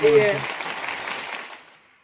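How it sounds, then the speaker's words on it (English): A burst of applause sound effect is dropped into a podcast: a brief voice gives way to a wash of clapping that quickly fades out within about two seconds. "That was applause."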